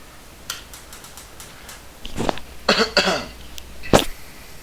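A few short, sharp human coughs close to the microphone, spaced over a couple of seconds, with faint ticking clicks before them in a quiet room during an online class.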